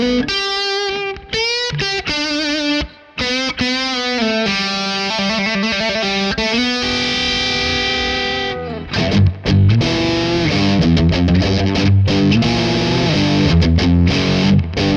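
Electric guitar through an SNK Bodybreaker Drive overdrive pedal with gain kept low, crunchy distortion playing sustained notes and chords that then shift into a thicker, heavier driven passage, loud and continuous with no voices.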